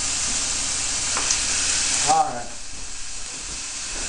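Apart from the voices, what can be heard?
ground meat sizzling while frying in oil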